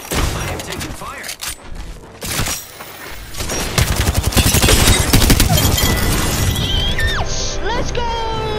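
Apex Legends gunfire erupts in dense rapid bursts mixed with shattering impacts and explosions, loud and continuous over several seconds, with game sounds and a player's voice layered underneath.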